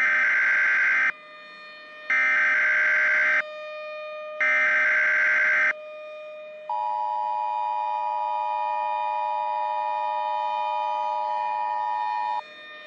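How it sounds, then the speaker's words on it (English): Electronic tornado sirens wail from a distance, sounding three short blasts with pauses between them, then one long sustained tone that holds for several seconds. "Oh, tornado sirens."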